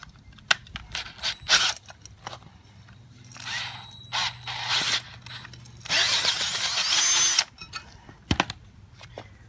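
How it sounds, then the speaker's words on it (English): A power drill bores new holes in metal for a homemade trolling motor mount, in short whirring bursts of varying length broken by pauses, clicks and handling knocks, fairly close and loud. "New holes drilled."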